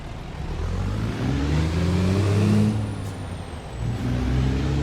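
A Peterbilt day cab truck in a trucking video game revs hard in a low gear. The engine drone rises and falls steadily across the clip with no talk over it.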